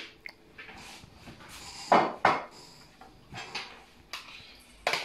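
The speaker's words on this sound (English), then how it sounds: "just chuck everything in the bowl" Celeriac remoulade ingredients, including chopped parsley and mayonnaise, tipped into a bowl and mixed, giving a string of close, irregular knocks and scrapes with two louder clunks near the middle, with no talking.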